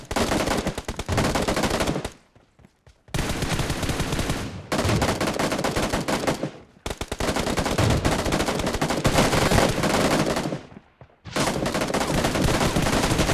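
Automatic rifle fire in the mobile battle game PUBG Mobile, loud sustained bursts of rapid shots separated by short silent gaps, close and dominating with no talking.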